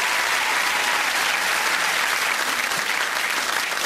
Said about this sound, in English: Give them a big round of applause, the Allsopps.